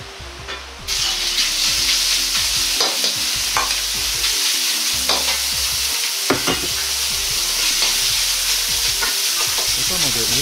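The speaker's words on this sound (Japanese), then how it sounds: "上から軽く潰すようにして、ひき肉を炒めていきます。" Ground pork sizzles in a tablespoon of oil in a pan for fried rice, a steady loud frying crackle broken by repeated scraping and pressing strokes of a utensil.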